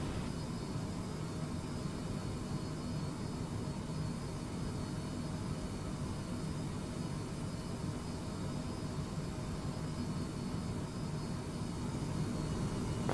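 Steady broadband roar of MD-11 jet engines at idle thrust while taxiing in Microsoft Flight Simulator 2020, a constant loud wash of engine noise with no pauses.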